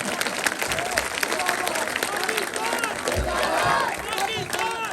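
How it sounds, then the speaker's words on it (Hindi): A rally crowd in Pakistan claps and cheers for their country at a union council gathering, a dense, steady wash of applause with shouts mixed in and a louder surge near the end. "सबसे पहले अपने मुल्क के लिए तालियां बजाएं"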